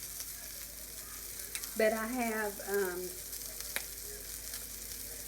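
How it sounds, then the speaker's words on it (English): Sausage sizzles in a pan with a soft, steady frying hiss and occasional stirring clicks, while a person speaks briefly over it. "I've been cooking the sausage while I've been talking"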